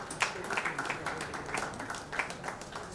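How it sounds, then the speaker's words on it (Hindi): Audience applause at a music launch event for a YouTube channel, dense steady clapping from a crowd throughout with a few sharper claps standing out. "गौरव वासवानी जी की एक बार जोरदार तालियां"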